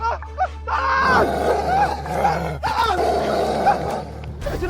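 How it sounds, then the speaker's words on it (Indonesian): A werewolf-like creature roars and growls in a loud, rough, sustained burst with a few pitch swings, close by, its bursts overlapping over several seconds. "Siluman serigala!"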